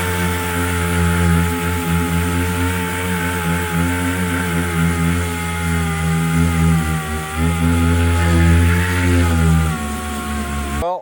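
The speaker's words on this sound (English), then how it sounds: "a lot of sanding later" A power sander working body filler on a Pontiac GTO body panel, a loud, steady motor whine with a continuous grinding buzz that holds for the whole stretch and cuts off at the end.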